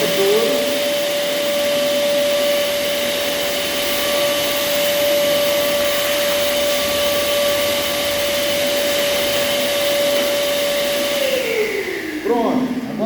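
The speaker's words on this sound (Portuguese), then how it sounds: "Pega o aspirador." A vacuum cleaner runs steadily and loudly with a constant whine while cleaning a wood floor during flooring repair, then winds down at the end.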